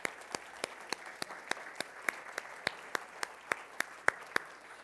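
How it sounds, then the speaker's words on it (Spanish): Applause at the closing session of a digital ecosystem conference comes through as evenly spaced, crisp claps, about three per second, steady and moderately quiet, with no voices over them. "Muchísimas gracias por todo y un aplauso."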